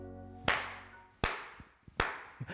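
A single person claps three times, sharp and close, with uneven gaps between the claps and a smaller tap near the end.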